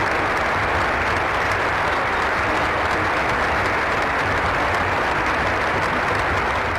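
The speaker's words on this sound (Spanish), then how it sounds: "siendo despedido con una ola de aplausos por parte de todos los asistentes del lugar" A large crowd at a state funeral breaks into sustained applause, a dense, loud, even wash of clapping that holds steady throughout with no voices standing out.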